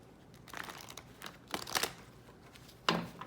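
A deck of tarot cards is shuffled close up in a quiet room, giving several soft papery riffles and slaps, with a sharper card snap near the end.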